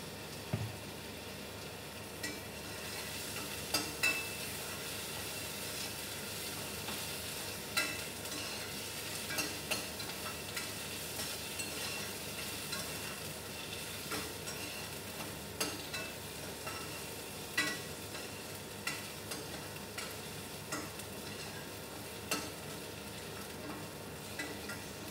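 Ginger paste sizzles softly in a pan while a spoon stirs it, scraping and tapping against the metal at irregular intervals over a quiet, continuous frying hiss.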